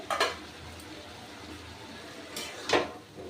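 A metal lid comes off a pot of boiled cabbage in a home kitchen, giving two short, close clanks of metal on metal with quiet kitchen background between them.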